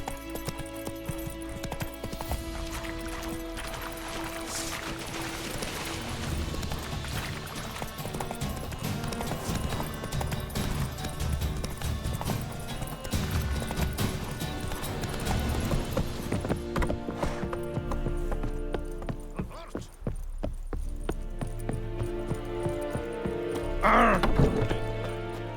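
Roach the horse gallops in The Witcher 3, hooves clip-clopping in a steady rhythm under a layered game soundscape of music and ambience, with a brief louder burst near the end.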